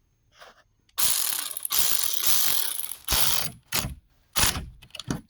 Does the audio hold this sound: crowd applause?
no